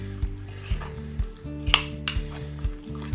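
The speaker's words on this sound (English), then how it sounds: "And then you want to mix it all together so it forms like a batter" A spoon scrapes and knocks around inside a mug while bacon and cheddar muffin batter is mixed, giving regular clinking strokes about twice a second with faint background music.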